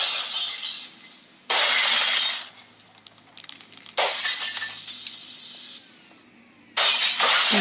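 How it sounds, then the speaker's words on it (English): Car windows are smashed in several separate bursts of shattering glass, loud and close. Quieter gaps carry tinkling debris between the breaks. "we hear the sound of car windows being smashed in"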